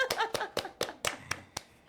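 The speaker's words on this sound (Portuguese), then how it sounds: "Palmas, Emerson. Palmas." Seven sharp hand claps in a steady, slightly slowing rhythm, close and fairly quiet, with a faint voice murmuring underneath.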